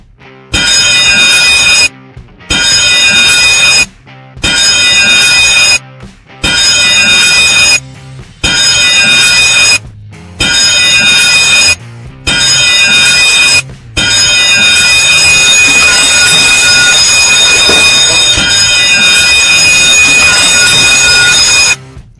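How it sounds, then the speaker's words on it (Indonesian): Loud electronic ship's general alarm sounding in seven short bursts separated by silences, followed by one long continuous blast. "Jika kawan maritim mendengar 7 kali bunyi pendek dan 1 kali bunyi panjang seperti berikut ini"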